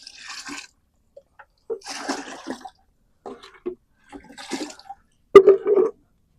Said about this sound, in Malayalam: അപ്പൊ ഞാനൊരു അഞ്ച് ലിറ്റർ വെള്ളത്തിലേക്ക് ഇത് മിക്സ് ചെയ്ത് കൊടുക്കാം